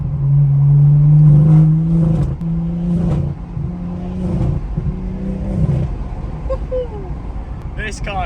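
A hot exhaust on a car crackles and burbles on overrun while it revs in a rural field, engine note rising and falling loudly over several seconds as someone talks over it.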